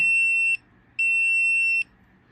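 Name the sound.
gemstone tester beeping on a ring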